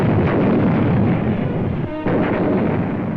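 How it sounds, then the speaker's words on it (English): Artillery guns shelling Beveland from positions across the Scheldt, a loud continuous rumble of heavy gunfire and blasts with a brief dip near the middle, dense and booming throughout. "From positions across the Scheldt, Beveland is shelled by our guns."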